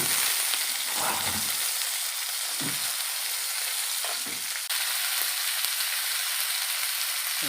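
Food fries in a pan until golden brown in a mud crab cooking session, giving a loud, continuous hissing sizzle close by, broken by occasional soft stirring knocks, with no talking.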